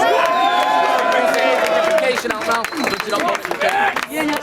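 A rap battle crowd cheers and claps loudly, whoops and applause swelling together, then breaking into scattered shouts and clapping.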